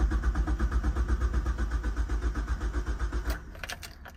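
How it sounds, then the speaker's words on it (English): Starter cranking a 2003 Mazda Protege5 with a no-start fault: a loud, close, rapid rhythmic churn that keeps turning without catching, then cuts off into a few faint clicks. "Crank the car."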